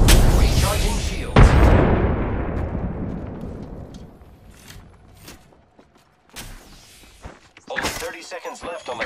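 A frag grenade detonates loudly in a shooter game, a heavy blast whose rumble fades slowly over several seconds before scattered gunfire and impact bursts break in near the end.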